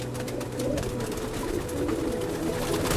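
Kulbacki pigeons cooing in a loft, low throaty coos repeating steadily over a constant background murmur, moderately close.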